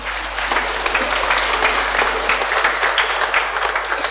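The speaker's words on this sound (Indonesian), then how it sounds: "Tepuk tangan loh." Audience applause at a children's Mass in church, a steady dense clapping from a congregation that holds fairly loud for several seconds without pause.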